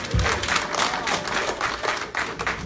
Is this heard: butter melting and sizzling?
no